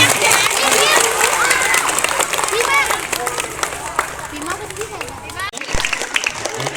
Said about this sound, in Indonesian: Oke, kasih tepuk tangannya dulu.